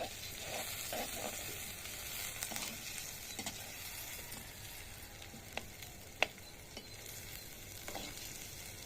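Onions sautéing in a pan on a rooftop, a steady low sizzle with soft scraping stirs and a few sharp clinks of the spoon against the pan, no voices.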